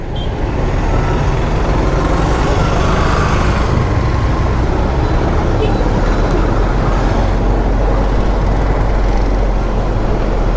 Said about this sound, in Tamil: பயங்கர டிராஃபிக்காக இருக்குது இந்த இடத்துல